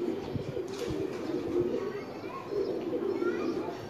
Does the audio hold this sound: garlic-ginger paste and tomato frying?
no